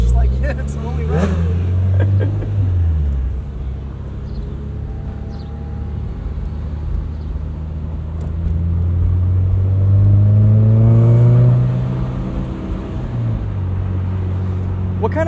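A 2003 supercharged Honda S2000 drives along with its engine note droning close and loud, rising and falling in pitch through several sweeps as it accelerates and shifts, steady throughout.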